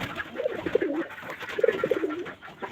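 Pigeons coo softly in a loft with nesting chicks, two short bouts of low, throaty, rolling calls close by against a faint background hum.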